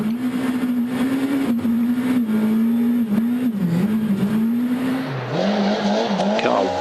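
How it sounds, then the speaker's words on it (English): Rally car engine, a Mitsubishi Lancer on a stage of Rally Austria 2013 in mixed conditions, wailing at high revs in a sustained, wavering drone that dips and climbs as it shifts and slides. "Car wailing in submission, as you can hear."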